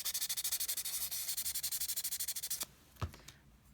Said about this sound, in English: So I got some 800 grit sandpaper right here. I'm just gonna use a little tiny bit of it to clean off that rust.